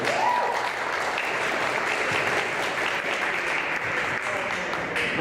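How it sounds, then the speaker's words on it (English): An audience at a LULAC district convention in Phoenix, Arizona, gives a round of applause, a steady, loud wash of many hands clapping that fills the whole stretch without pause. "Let's give them a round of applause."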